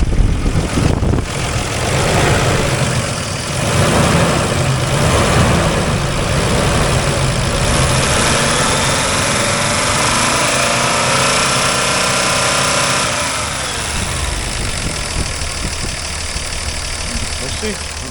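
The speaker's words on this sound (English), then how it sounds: "Let you listen to the motor. It stumbles off idle." 1991 Toyota Land Cruiser 80 Series engine, the 3FE, idling with an uneven, stumbling rumble and occasional rev changes, loud and close for a long stretch, with a person talking over it at points.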